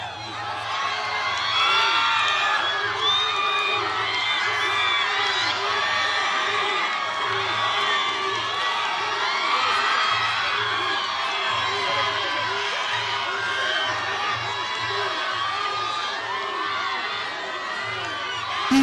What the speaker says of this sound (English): People cheering for their team